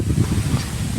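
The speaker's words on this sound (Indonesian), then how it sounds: "Tuh angin." Wind on a mountain hiking trail buffets in gusty, low rumbling bursts against the microphone, close and fairly loud for a brief moment.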